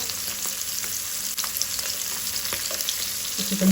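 Goan sardines frying in a pan over a medium flame, a steady crackling sizzle with a few spatula scrapes, close and continuous for a few seconds without any voices.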